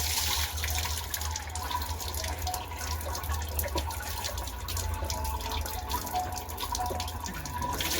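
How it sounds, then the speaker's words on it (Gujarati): Drinking water pouring from a clay pot in a village, a soft continuous trickle and splash with faint drips, fairly quiet and close, no voices. "આમાં પાણી પીવાનું પાણી આવે છે."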